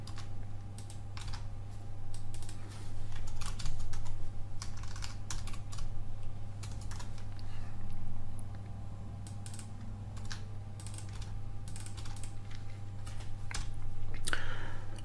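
Computer keyboard typing during a programming lesson, a steady run of close, clicky keystrokes lasting throughout with no talking over it.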